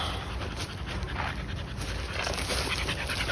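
A dog panting close by, quick rhythmic breaths repeating steadily against a light background hiss.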